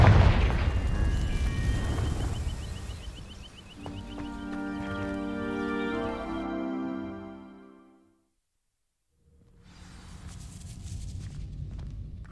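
A Confringo fire spell bursts in Hogwarts Legacy, a booming blast against dry vines followed by a rumbling, crackling tail and layered game effects, then a brief silence before ambient game sound returns.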